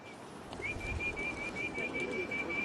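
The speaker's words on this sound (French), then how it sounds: "le pigeon." Pigeons in old Beijing give a clear, sustained whistling tone that holds steady for a couple of seconds, with soft bird calls and faint background murmur around it.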